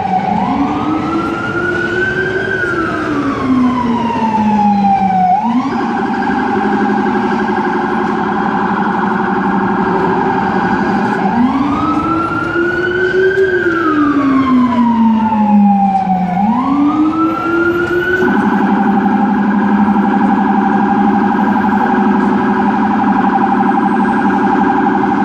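An emergency vehicle siren sounds loudly and continuously on a city street near One Vanderbilt tower, a rising-and-falling wail that switches to a steady alternating tone and then back again.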